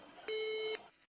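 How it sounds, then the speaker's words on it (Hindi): A single steady electronic telephone tone sounds after a landline call drops, a flat sustained beep of about half a second, clear over faint background, then fading to silence. "आपका फोन डिस्कनेक्ट हो गया।"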